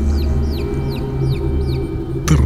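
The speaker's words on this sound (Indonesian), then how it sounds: "terdengar suara anak ayam yang jelas." Baby chicks chirp in a repeating series of thin, high peeps, about four in a row, over a low hum, ending with a short sharp clatter.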